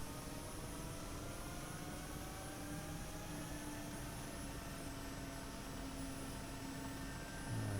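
Mi-8 helicopter engines in the DCS simulator spool up at full throttle, a steady loud turbine whine with whistling tones and a droning rumble that holds continuously throughout.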